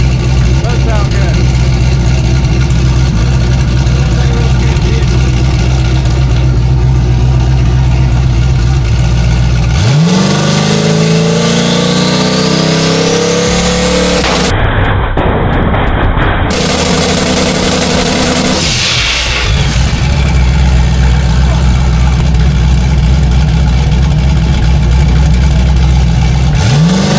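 A turbocharged junkyard 5.3 engine, loosely sitting unbolted on its mounts, runs loud and near, dropping out and restarting, then revving up in rising sweeps before settling back to a steady drone, with talk over it.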